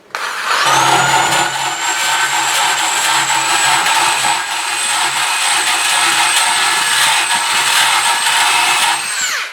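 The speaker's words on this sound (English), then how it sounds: "let's see if the bigger one works in a drill" A power drill driving a screw and bolt extractor whirs steadily and loudly for several seconds, spinning up at the start and winding down at the end, with no talking.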